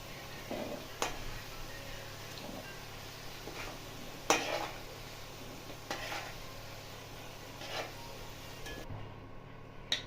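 Potatoes with a little salt frying in oil for a vegetarian navratan korma, a steady soft sizzle under occasional spoon stirs and light clinks against the pan, close and fairly quiet throughout.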